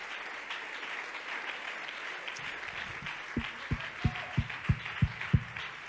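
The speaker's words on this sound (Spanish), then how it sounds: "Alguien aplauda a Dios con alegría esta noche." A church congregation applauds in a continuous wash of clapping, and about halfway through a steady rhythmic beat of heavier thumps joins in at moderate distance.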